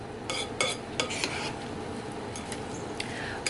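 Sliced bananas are folded into a fruit salad with a utensil, making soft, wet stirring sounds and occasional clinks against the bowl, close and fairly quiet over a steady background hiss.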